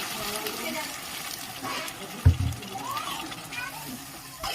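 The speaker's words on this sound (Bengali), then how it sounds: "এবারে এখানে আমি একটু জল দিয়ে দেবো" A little water is poured into a pan of spiced chili chicken mixture, giving a brief splash and gush about midway, close by, amid someone talking.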